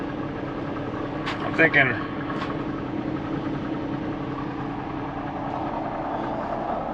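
A semi truck idles after its cool-down with a steady low rumbling drone, while someone speaks briefly over it.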